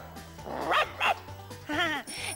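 A human voice imitates a dog barking: three short, voiced bow-wow barks in quick succession, close and fairly loud.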